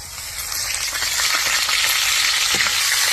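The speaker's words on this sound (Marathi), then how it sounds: "आता मोहरी टाकते, कढीपत्ता टाकते." Mustard seeds and curry leaves sizzle in hot oil in a kadhai with cumin, a steady loud crackle and hiss throughout with small pops, no voices.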